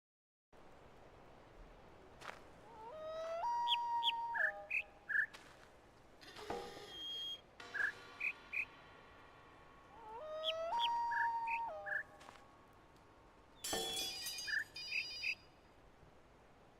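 Bird calls from The Witness puzzle game: clusters of bright, chirping whistles in two repeating phrases, close and clear, mixed with other tonal game noises and short louder bursts over a faint hiss.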